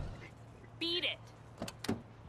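A woman climbs out of a car in Watch Dogs 2: a brief whirring mechanical sound followed by two quick, faint door clunks, quiet and close, with talk around them.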